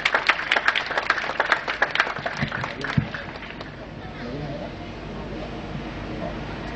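Audience clapping at a scholarship distribution ceremony, a dense burst of many hands over roughly three seconds that then fades into soft murmuring crowd noise.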